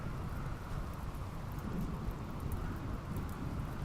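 Steady rainfall in the game RimWorld, a dense even patter with low rumbling beneath, continuous and moderately loud with no talking.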